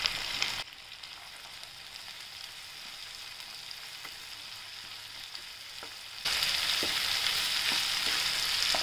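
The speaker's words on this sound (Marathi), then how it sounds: "शिमला मिरची टाकूया, बीन्स टाकूया आणि वाटाणे टाकूया। आता आपण हे छान परतून घेऊ।" Capsicum, beans and peas sautéing in a pan for vermicelli vegetable upma, a steady close sizzle that drops quieter early on and then swells louder again near the end.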